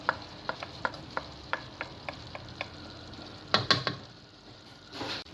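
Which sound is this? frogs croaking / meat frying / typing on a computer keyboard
meat frying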